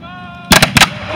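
Muskets fired by English Civil War reenactors at Hylton Castle outdoors: a few sharp, loud reports in quick succession, with a steady hum before them and wind in the background.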